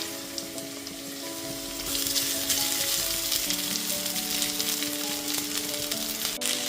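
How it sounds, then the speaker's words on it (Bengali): Cooked rice added to a hot pan for fried rice, a loud continuous sizzle that swells as the rice goes in, with stirring scrapes, close up and without talk. "তারপর ভাতটাকে আমি দিয়ে দিচ্ছি।"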